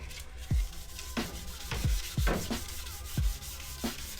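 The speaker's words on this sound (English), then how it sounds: "Now you're just gonna go over the whole thing with 600 grit." Sandpaper of 600 grit rubbing over a painted scooter body to take off the clear coat, a series of short, scratchy strokes arriving every half second or so, fairly close and steady with no talking.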